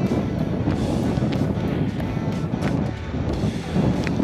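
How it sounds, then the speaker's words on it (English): Wind gusts across a steep hillside on an Australian station stay, a broad, rough buffeting roar with brief bursts, close and fairly strong throughout. "Wind's picked up too."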